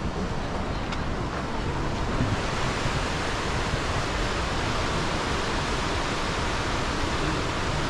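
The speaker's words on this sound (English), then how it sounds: "This is Petrohué Falls." Petrohué Falls in Osorno, Chile, pours as a steady, loud, unbroken roar of rushing water that fills the whole scene without pause.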